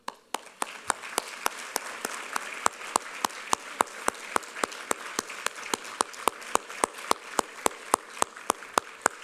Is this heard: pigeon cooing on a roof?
no